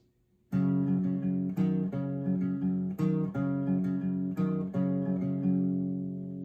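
An acoustic guitar plays the fourth line of a song, plucked notes ringing out in a simple repeating pattern, clear and close with no talking.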